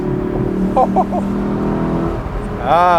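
A 2021 Lexus LC500 Convertible engine idles with a steady low drone under a brief voice, then a sharp rising rev bursts in near the end, in Sport Plus mode with exhaust pops.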